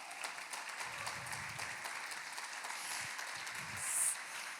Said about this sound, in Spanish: Así que vamos a darle un aplauso al Espíritu Santo.